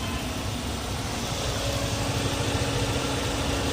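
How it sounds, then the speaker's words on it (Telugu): A 2020 Maruti Suzuki Ertiga ZXI automatic idles steadily up close, a smooth, even engine hum with a low rumble and no voices over it. "ఇంజిన్ చాలా స్మూత్గా ఉందండి"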